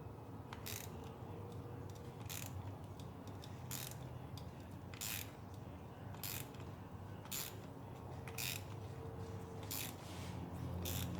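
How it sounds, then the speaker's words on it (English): A spark plug socket on a ratchet loosens a plug in an 08-12 Chevrolet Malibu engine, giving a steady series of sharp clicking strokes about once a second, close and alone with no voices. "just slowly remove the spark plug"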